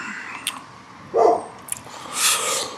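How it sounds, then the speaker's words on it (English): A dog barks a few times at a distance, short separate woofs over a quiet indoor background. "Dog's found someone to bark at."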